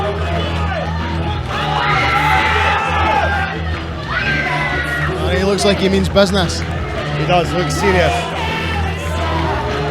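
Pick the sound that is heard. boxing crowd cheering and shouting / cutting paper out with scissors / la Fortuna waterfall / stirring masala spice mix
boxing crowd cheering and shouting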